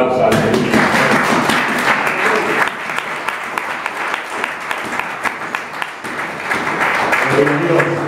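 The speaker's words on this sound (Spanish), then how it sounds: "Den un fuerte aplauso al Señor." Church congregation giving loud applause during a sermon, dense clapping with sharp individual claps standing out, voices calling out over it at times.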